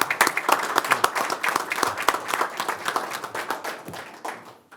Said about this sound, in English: We have a round of applause, please.